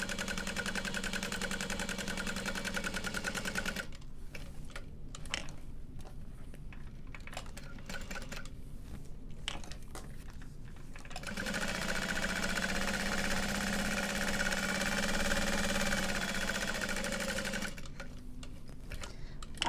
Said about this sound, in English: And we are going to sew along all four sides.